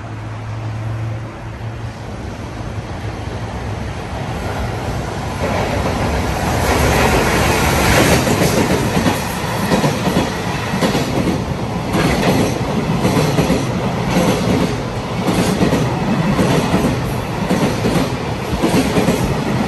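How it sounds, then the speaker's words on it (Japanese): A freight train passing at high speed near Tenryugawa Station or at Hamamatsu Station in Japan, a loud close roar that builds into steady rumbling with rhythmic wheel clatter on the rails. "列車は通過しますので、お聞きください。"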